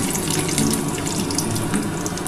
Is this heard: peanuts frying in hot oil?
yes